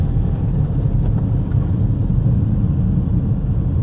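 The engine of a £500 used car with boost or EGR faults drones loudly from inside as it comes on turbo boost, a steady low rumble with a slight rise and fall.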